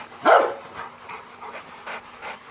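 A large adult Rottweiler at a Texas kennel pants in quick, breathy, uneven bursts close by, with a few faint whimpery edges and no talking.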